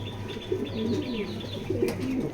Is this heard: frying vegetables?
no